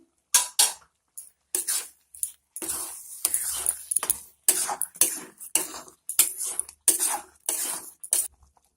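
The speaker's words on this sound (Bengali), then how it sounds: "গরম মশলার গুঁড়ো নাড়িয়ে নিচ্ছি একটু" Garam masala powder being stirred into dal tadka, a series of sharp metallic clinks and scrapes of a spoon against the pot in irregular bursts separated by short silences, close and fairly loud, with no talking.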